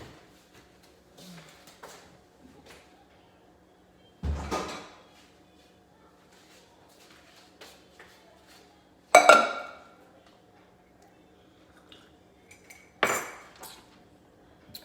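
A cooking pot pulled out in a home kitchen, heard as a few separate clanks and metallic rattles spaced several seconds apart against a quiet background.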